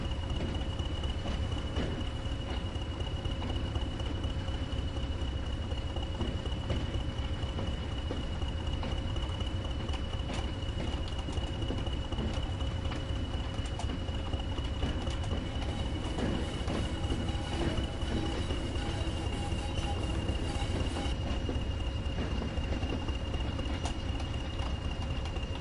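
Train shunting in Train Sim World 2 on the Tees Valley line: steady rolling rail noise and wagon rumble with a sustained tonal whine, continuous and fairly loud throughout.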